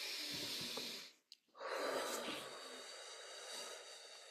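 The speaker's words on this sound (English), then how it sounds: "Inhale." A single deep inhale during a guided breathing meditation, drawn in slowly and close to the microphone with an airy hiss, after a short pause and with no speech over it.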